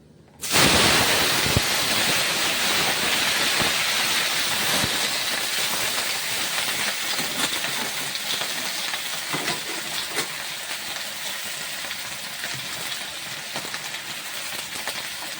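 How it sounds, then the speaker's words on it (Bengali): Vegetables tipped into hot oil for a hima bean and potato fish curry, a sudden loud sizzle that starts abruptly, then holds as a steady, dense hiss and crackle that fades slightly over time, with no talk. "দেখতে পাচ্ছ তেল গরম হয়ে গেছে এখন আমি সবজি দিয়ে দিচ্ছি"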